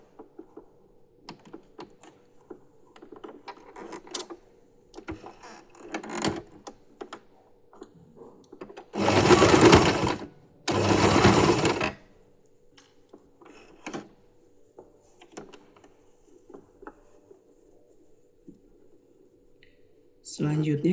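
A sewing machine stitches a fabric glove from the outside, running in two short, loud bursts in the middle, with a person talking before and after.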